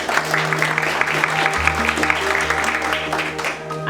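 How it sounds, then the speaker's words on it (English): Audience applause for the sponsors at a stock exchange opening bell ceremony, a moderate, steady patter of many hands clapping over a low hum, with a faint voice underneath. "A round of applause for the sponsors."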